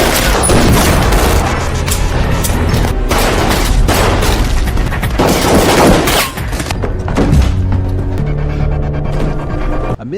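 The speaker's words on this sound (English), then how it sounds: "Both sides plunged into a prolonged shootout," Rapid gunfire crackles and booms in a prolonged shootout, dense bursts of shots and heavy thuds overlapping loudly with little pause.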